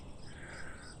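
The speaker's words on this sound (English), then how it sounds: "Bugs everywhere." Summer insects buzzing beside a river trail on a hot, humid day, a faint, steady drone with a thin high chirring tone over soft background hiss, no voices.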